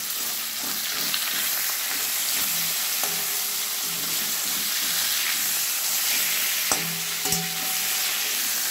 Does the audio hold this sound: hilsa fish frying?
yes